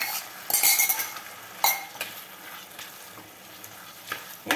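Bottle gourd pieces fry in a pan at home, with a steady soft sizzle broken by several sharp scrapes and clinks of a spoon stirring against the metal, close and fairly quiet.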